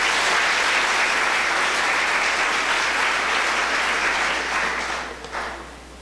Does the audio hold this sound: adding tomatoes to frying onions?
no